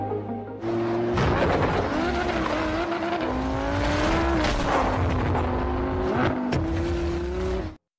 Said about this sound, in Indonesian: Kabir berhasil keluar dan mengejar Saurab dengan kecepatan mobil berlaju